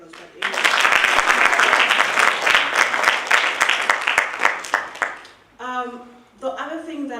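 Audience applause fills a school auditorium during a district road safety debate competition, a dense, steady burst of clapping from the crowd that fades out before a speaker resumes talking.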